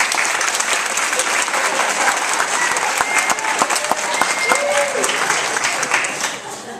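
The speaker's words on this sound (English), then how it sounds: "please make up your mind if you're going to clap or not" Steady, loud audience applause fills a 2013 high school commencement ceremony, dense clapping sustained throughout with a brief whistle-like tone partway and a slight fade at the end.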